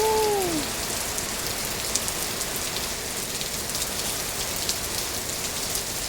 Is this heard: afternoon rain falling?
yes